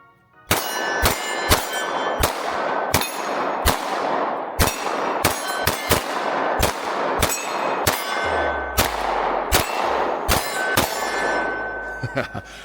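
An S&W CSX E-Series pistol fired in a steady string of about a dozen sharp shots, each followed by a ringing metallic clang from a steel target, loud and close with the rings overlapping between shots.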